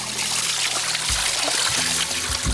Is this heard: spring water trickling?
yes